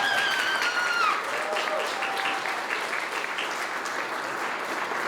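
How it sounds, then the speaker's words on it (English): A crowd at a community center grand opening gives a sustained round of applause, steady and full throughout, with a brief tonal squeal near the start. "So give her a round of applause too, would you please?"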